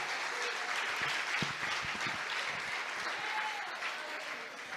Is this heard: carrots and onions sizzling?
no